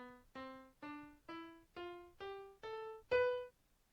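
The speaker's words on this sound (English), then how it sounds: "So B Locrian mode sounds like this." B Locrian mode scale played as eight clean, evenly spaced notes climbing step by step, each a short, bright pitched tone with soft decay, the last held slightly longer and louder, faint and alone.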